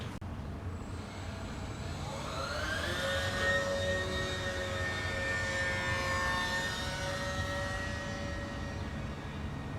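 A small styrofoam RC FPV plane flies with a steady whining motor drone and rising, shifting pitch as it passes, loud and continuous throughout over wind-like background noise.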